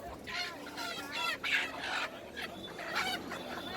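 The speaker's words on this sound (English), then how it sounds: "Mischievous chickens wander around without a break." Chickens in a Nagaland tribal village cluck and squawk in a quick, overlapping series, fairly close and lively, with no clear talking.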